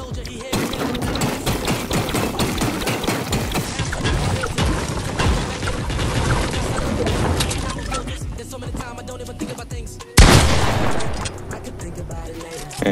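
Fortnite solo match gunfire: a dense, sustained stream of rapid shots fills the first ten seconds, followed by a sharp, louder burst near the end, with a faint voice in the background.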